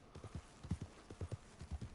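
Horse hooves clip-clop in a steady, quick trotting rhythm of paired beats on a road in the Red Dead Online video game, soft and fairly close, with no talking.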